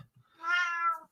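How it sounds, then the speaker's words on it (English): An indoor house cat gives a single clear, drawn-out meow, close and fairly loud, after a couple of faint soft sounds, with no voices. "the cat is determined to get my attention"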